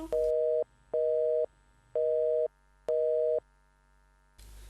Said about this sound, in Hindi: लगता है फोन कट गया।